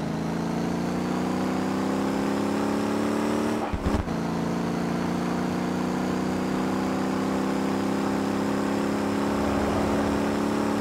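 Car engine in the driving game Motor Town: Behind The Wheel, a loud, steady, rising drone as it accelerates in third gear, with a brief dip at a gear change before climbing again.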